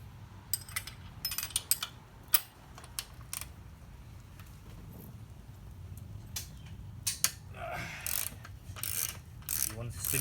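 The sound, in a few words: wrench turning the axle nut on a Honda Trail125 front wheel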